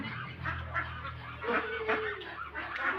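Young ducks at a small duck farm at feeding time give a busy stream of quacks and clucks, close and continuous, with a low steady hum beneath and a short rising call in the middle.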